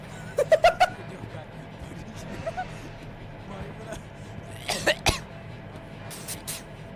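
A person coughs during a chaotic Backrooms gaming session, with short bursty coughs near the start and another cluster around the middle amid ongoing talk and background noise.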